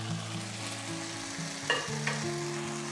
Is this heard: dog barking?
no